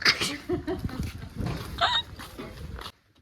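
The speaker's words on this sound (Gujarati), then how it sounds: "આ રીધિના કીડાણાનો કૂતરો." A dog makes short yips and whimpering sounds close by, with a few brief barks and some background shuffling before it stops.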